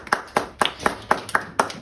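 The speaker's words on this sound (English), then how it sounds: "One more round of applause for Maya." A classroom round of applause: about eight crisp, evenly spaced claps in under two seconds, sharp and fairly close, like a group clapping together in unison.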